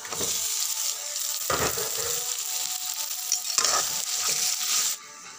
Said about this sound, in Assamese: পিঁয়াজখিনি ৰঙা হৈ যোৱাৰ পিছত মই মাংসখিনি দি দিছোঁ ইয়াত